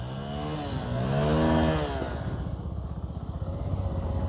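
A motorcycle revs up and settles back to a rapid idle on a rough dirt road by a bridge. One rising and falling rev swell gives way to a chugging idle, with voices faintly present.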